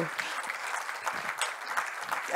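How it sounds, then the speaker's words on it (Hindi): Moderate applause from an audience, a steady wash of clapping at some distance with a faint murmur of voices beneath. "जोरदार तालियों से स्वागत होना चाहिए"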